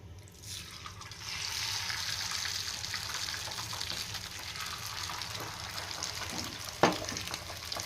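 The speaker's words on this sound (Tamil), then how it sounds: "இப்போ கலந்து வச்ச முட்டையை ஊற்றிக்கலாம்." Beaten egg mixture poured into hot, oiled cavities of a paniyaram pan, giving a steady liquid sizzle and pour that runs for several seconds, with one sharp clink near the end and no talk.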